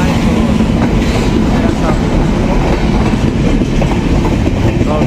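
A train pulling into Bashbari railway station, with a loud, close, continuous rumble and rhythmic wheel clatter on the rails throughout, and people's voices faintly mixed in.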